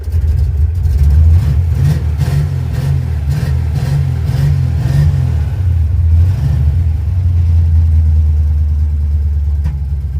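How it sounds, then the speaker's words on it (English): Carburetted engine fitted with an Edelbrock 1405 carb runs rough and uneven, with a loud, lumpy low rumble broken by irregular pops and bursts of backfire through the exhaust, close by with no talking. "Backfiring through the exhaust."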